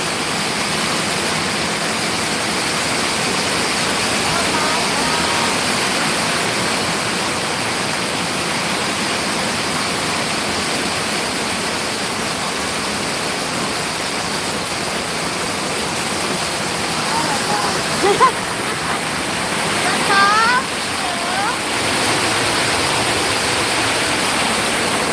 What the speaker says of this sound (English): When rain comes here, it sounds like a freight train going through.